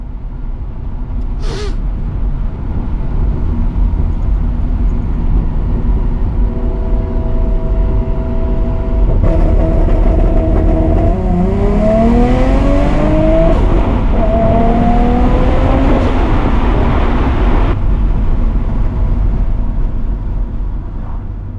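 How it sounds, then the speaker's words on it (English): A 1JZ engine in a JZZ30 Toyota Soarer revs hard on an anti-lag launch, climbing in pitch through several rising surges, loud and close, over a steady rumbling idle. "still a bit of an anti-lag launch for some noise"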